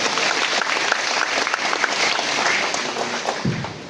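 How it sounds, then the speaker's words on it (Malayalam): A church audience in Kunnamkulam, Kerala, claps at a priest's jubilee celebration, a dense and even burst of applause that lasts a few seconds and then cuts off abruptly. "ഒന്നൊരു കയ്യടി കൊടുക്കേണ്ട സഹോദരങ്ങളെ."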